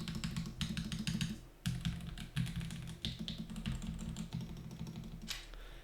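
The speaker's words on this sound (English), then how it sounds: "I'll let you guys listen to what this keyboard sounds like without foam." Rapid, close clacking of a mechanical computer keyboard with its internal foam removed, keystrokes falling in quick irregular bursts with brief pauses and no talking.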